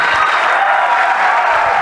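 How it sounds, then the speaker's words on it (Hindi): Brief burst of loud applause from an audience at a training session in a New Delhi stadium, a dense wash of clapping lasting under two seconds. "हम जोरदार तालियों के साथ विदा करेंगे, हाथ मिलाते हुए।"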